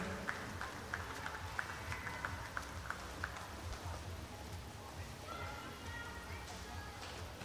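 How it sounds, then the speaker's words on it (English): Applause rings out for swimmers at the Swim England East Region Long Course Championships, a faint, distant patter of clapping in a large echoing pool hall, with an announcer's voice running over it. "A big round of applause for these swimmers."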